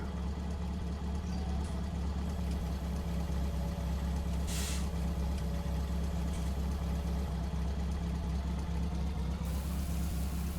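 A truck in Farming Simulator 19 pulls up with a steady, low diesel engine drone that stays even throughout, a brief hiss of air cutting in partway through.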